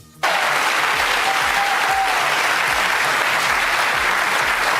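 A political rally audience applauds a speech on economic plans, steady dense clapping filling the space loud and alone from start to finish.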